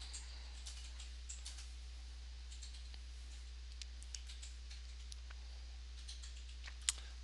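Keys tapped on a computer keyboard in a quiet room while a search term is entered, with quick irregular bursts of clicking and one sharper click near the end, no talking.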